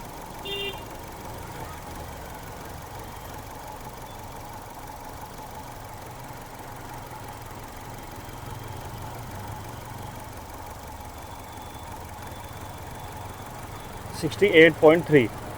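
A car engine idles after a Liqui Moly Cera Tec engine oil treatment, making a low, steady rumble with no air conditioning running, and a few louder clicks or taps near the end.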